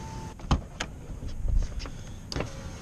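A power window motor on a 2001 Jeep Cherokee whirs in short bursts, with a few sharp clicks and thumps as the glass starts and stops, heard close up with no talking.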